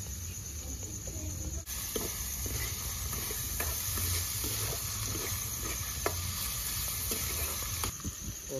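Capsicum fries in a pan with a steady, close sizzle, and faint scrapes and taps of stirring now and then.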